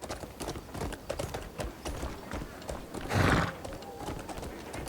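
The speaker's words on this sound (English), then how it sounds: "You know what? I'm going to get off this horse." A horse in the video game Crimson Desert trots with steady, rhythmic clip-clopping hooves, and a loud neigh breaks in partway through. A voice talks faintly underneath.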